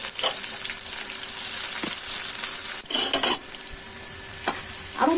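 Onion and garlic frying in a pan for kachori filling, with a steady close sizzle throughout and a few scraping clinks of a spoon stirring against the pan.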